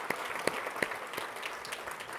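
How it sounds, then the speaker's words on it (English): An audience applauds three laureates at an awards event, a dense patter of many clapping hands at moderate distance, steady for the whole stretch with a few sharper individual claps standing out. "One more round of applause for these three amazing"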